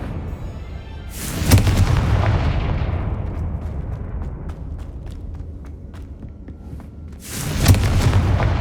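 A Confringo fire spell explosion in the game Hogwarts Legacy: two heavy booming blasts several seconds apart, the first followed by a long rumbling decay with scattered crackles.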